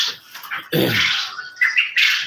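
Farm birds call in a few short, harsh squawks and chirps, close and fairly loud, with brief pauses between bursts and no talking.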